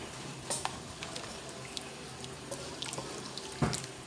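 Water is poured into a cooking pot while prawn pulao is being made, with splashy bursts and drips scattered over a quiet kitchen background and no talking.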